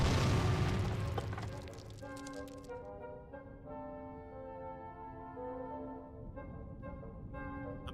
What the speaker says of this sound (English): Amazingly, the explosion hasn't left even a single scratch on the stone.